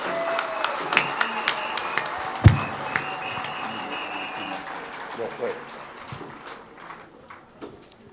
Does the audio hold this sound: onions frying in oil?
no